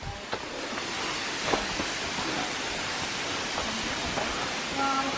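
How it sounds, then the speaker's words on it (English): A waterfall in Costa Rica heard as a constant broadband rushing roar, steady and enveloping, with a few faint sounds and a brief tonal blip near the end. "looking at the waterfall."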